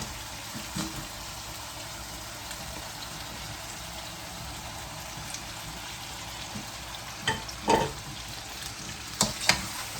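Pork binagoongan fries in a pan under a steady, even sizzle, with a few louder spatula scrapes and clatters toward the end as it is stirred, heard close with no voices.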